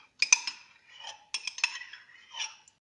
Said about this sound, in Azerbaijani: Bir yerdə çalırıq.